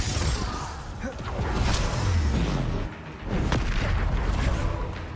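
Confringo blasting spell explosions from the game Hogwarts Legacy: repeated booming blasts with whooshing swells, dense and loud throughout, with a brief dip midway before the din resumes.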